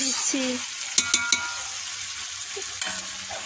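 Chicken curry frying in a pan, a steady soft sizzle with a few sharp clinks of a spoon against the pot as it is stirred, no voices.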